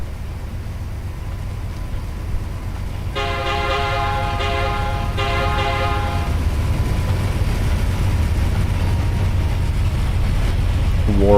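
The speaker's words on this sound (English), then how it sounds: "Here comes the train." A rumbling train in the Trainz video game approaches under steady engine noise, sounding a loud multi-tone horn in two long blasts as it nears houses.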